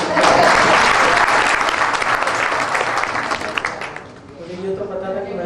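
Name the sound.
audience applause at a comedy poetry event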